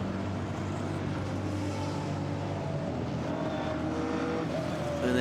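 A leading Chevron GT4 race car crosses the finish line at Misano, its engine a steady loud roar with rising pitch sweeps near the end as the car passes close by.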